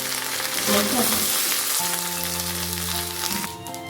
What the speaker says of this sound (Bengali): এবার জল ঝরানো ভাতটা দিয়ে দিচ্ছি ভাতটা দিয়ে আমি হালকা একটু নাড়াচাড়া করে নিচ্ছি